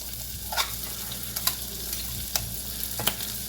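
Ingredients sizzle in a pot for pizza soup while a utensil stirs them around, steady frying hiss broken by several sharp scraping clinks at irregular intervals, close by.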